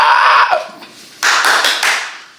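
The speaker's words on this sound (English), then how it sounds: "I don't know why I'm always clapping" Hands clapping loudly and close in a few quick bursts, with a short quiet gap between them.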